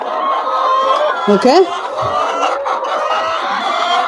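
Laying chickens cluck in a poultry house, a dense chorus of clucks and one rising squawk close by, with a person briefly speaking over them.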